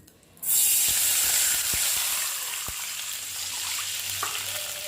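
Water poured into a pan of frying dried red chilli sets off a sudden loud, steady sizzle with a few sharp crackles, sustained close up for several seconds.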